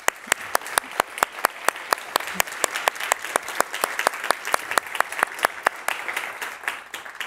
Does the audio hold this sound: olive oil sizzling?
no